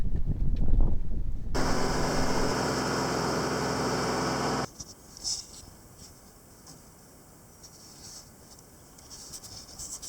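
An old tractor engine runs with a steady, droning hum for about three seconds, then cuts out abruptly, leaving quiet outdoor woodland ambience.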